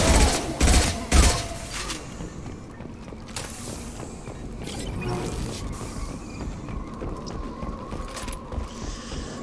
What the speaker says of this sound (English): this is not fully automatic, this is just a burst fire